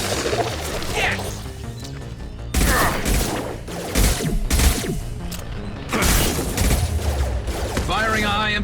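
Gunfire and heavy impacts in Mass Effect 2 combat, several loud blasts and crashing hits mixed with mechanical creaks, close and forceful.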